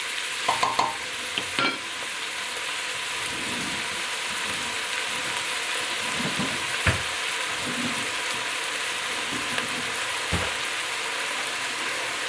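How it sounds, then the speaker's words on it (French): Chopped onion sautés in olive oil in a pan, a constant, dense sizzle with occasional stirring scrapes and light clinks, close and steady throughout. "Donc je continue à sauter l'oignon"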